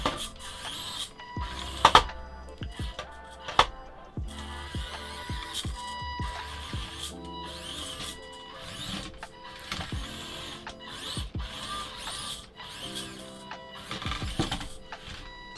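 RC4WD Trailfinder 2 1/24 scale RC truck with Mojave body crawling over obstacles, a whirring, whining small electric motor that surges and stops in short bursts, with a few clicks and knocks of the truck hitting terrain.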